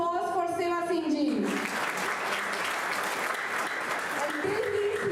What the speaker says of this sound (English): Please welcome a huge round of applause for Seva Singh ji.